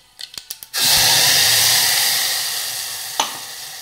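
Freshly ground masala paste hits hot oil already holding mustard seeds, cumin, asafoetida and curry leaves, bursting into a loud steady sizzle that slowly eases, after a few quick taps at the start.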